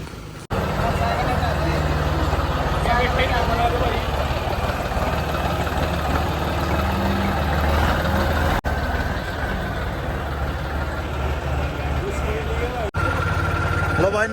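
A John Deere 5210 tractor engine runs steadily and loudly throughout, a continuous low diesel rumble with brief breaks near the middle and end, and talk mixed in over it.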